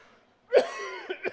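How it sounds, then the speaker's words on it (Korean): A man coughs once sharply, then gives a couple of small throat catches, close and fairly quiet, in a church setting during a sermon. "이 기침이 한번 나기 시작하면 이거 안 되는데"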